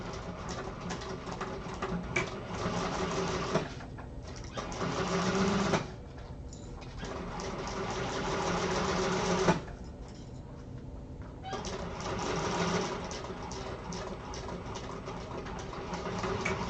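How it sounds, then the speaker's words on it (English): A sewing machine stitches across the exterior of an Aster Bag, sewing a seam from box to box. It runs in steady close bursts with two short pauses between runs. "And then do the exact same thing, sewing across there from box to box."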